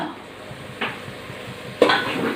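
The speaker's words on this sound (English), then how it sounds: "Now little by little we will fry the masala." Masala frying in a pan for a prawn curry over a high flame, a soft steady sizzle with two short scraping stirs, close and without talk.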